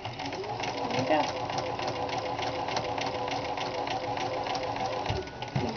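Sewing machine running steadily for several seconds while back stitching a Christian head covering cap in the Kapp style, a close mechanical whir with rapid needle ticking and a voice speaking over it.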